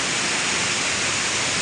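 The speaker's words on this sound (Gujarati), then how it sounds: "વરસાદ કેટલો જોરમાં પડે છે" Heavy rain pours down in the Pavagadh forest area as a loud, dense, unbroken roar of water, steady from start to finish.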